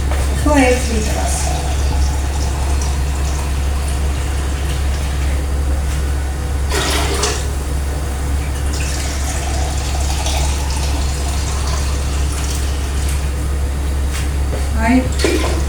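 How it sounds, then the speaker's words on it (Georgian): About seven litres of water are poured into a large pot for homemade compote, a continuous gushing stream heard over a steady low hum. A person talks at times during the pour. "დავადგამ 7 ლიტრა წყალს 6 ლიტრა ჩავასხი ამით და დავამატებ ხო 1 ლიტრას"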